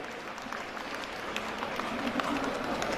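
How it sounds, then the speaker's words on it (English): Audience applause at a school annual day celebration, thanking teachers: steady, dense clapping from a crowd filling the whole stretch at a fairly even level, with no clear voices over it. "Can we have a clapping for those teachers who took the special initiative?"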